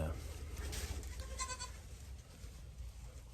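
Goats bleat repeatedly inside a barn in snowy weather over a loud, rumbling background of wind or machinery, with the animal calls rising in short bursts.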